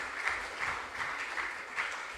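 Audience applause for contestants at a junior science and maths quiz regional qualifier in the Ashanti Region, a soft, steady wash of many hands clapping at a distance without talk over it.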